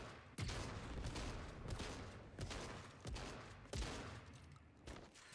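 Shotgun blasts in the Fortnite video game, about half a dozen sharp booming shots spaced irregularly over several seconds, fairly quiet overall and with no voices.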